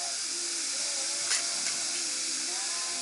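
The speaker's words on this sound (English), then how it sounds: "So I shut the valve and bleed off the line and see where the kick-on goes" Compressed air bleeding off the line of a vintage Champion compressor fitted with a Wilboken pressure switch, heard as a loud, steady, close hiss with a couple of slight surges.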